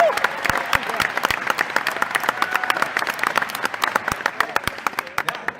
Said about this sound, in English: only applaud this if you actually believe it